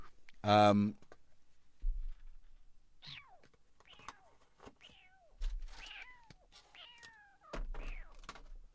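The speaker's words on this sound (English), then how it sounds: "Oh, we have a cat." A wet tomcat meows several times indoors, with short rising and falling cries spread across the stretch, alongside soft thumps and quiet speech nearby.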